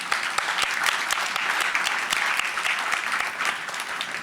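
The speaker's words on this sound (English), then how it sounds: "Could we just have another round of applause?" Steady, dense applause from an audience at a Monument Lab "Call To Peace" event at Express Newark, with many hands clapping continuously and evenly at a moderate distance for the whole stretch.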